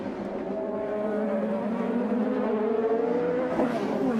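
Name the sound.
IndyCar race car engine on track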